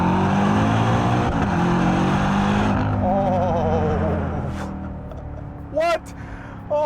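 A BMW M5 CS sedan roars loudly as it accelerates in second gear, then the engine note falls away and quiets, broken by a few brief sharp bursts.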